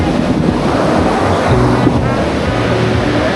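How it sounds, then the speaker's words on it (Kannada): Surf at Candolim Beach in Goa washes in continuously, loud and close, with wind buffeting the microphone and a constant roaring wash with no distinct break. "ಫುಲ್ಲು ಅಲೆಗಳು ಸಹ ಸಖತ್ತಾಗಿ ಬರ್ತಾ ಇದ್ದಾವೆ"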